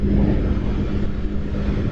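A bus on a climbing road toward hill country in Sumatra, its engine droning loud and steady throughout with a low tonal hum, close by and continuous.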